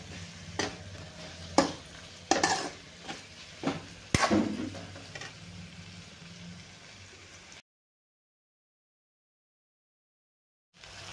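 Eggplant pieces sizzle in hot oil in a pan for khar vangi, a steady frying hiss broken by sharp clinks and scrapes of stirring, then the sound cuts to silence.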